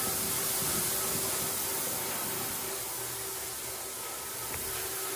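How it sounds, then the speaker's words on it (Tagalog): A vacuum cleaner runs on a floor while a large house in California is cleaned, giving a steady, loud whooshing hiss with slight shifts in tone throughout and no talk. "Tapos after that mga Inday, i-vacuum."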